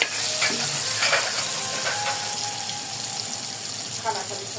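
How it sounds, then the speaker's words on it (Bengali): Hilsa fish sizzles steadily in a frying pan at home, a loud continuous hiss with a few clinks and scrapes throughout. "সেই টেস্টি ইলিশ মাছ ভাজা।"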